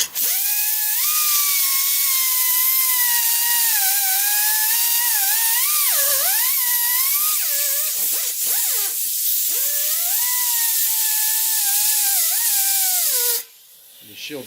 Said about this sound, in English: we're going to cut off this welded bolt off the end of the axle there